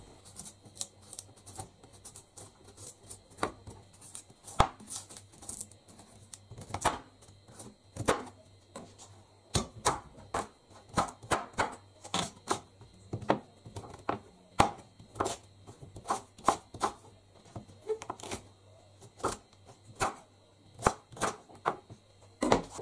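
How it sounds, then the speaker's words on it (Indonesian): Peeled cassava chopped into small pieces with a knife, in a steady run of sharp, close chopping strikes of varying rhythm, with no talking. "lalu kita potong kecil-kecil"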